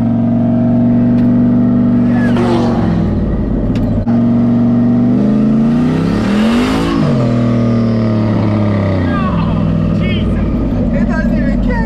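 V8 engine of an LS-swapped Volkswagen Beetle roaring loud and close during a burnout at an LS Fest event in Texas, pitch climbing and falling with revs as the tires slip; a voice talks over it.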